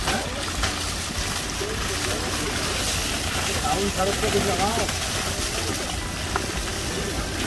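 Water from an automatic pressure system sprays onto a dirty car being washed outdoors in the hills, a continuous close hiss and splatter with people talking over it.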